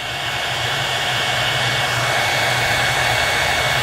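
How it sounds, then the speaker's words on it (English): A hair dryer on hot, warming a face mask to soften it, blows continuously at full power, a steady close whooshing roar with no breaks. "what I normally do is take the hair dryer"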